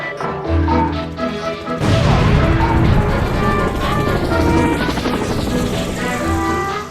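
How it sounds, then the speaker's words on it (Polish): A loud, dense crash and boom burst in after a quieter opening, with a chopping, whirring rotor-like roar running beneath a busy cinematic mix. "Był helikopter i był wybuch."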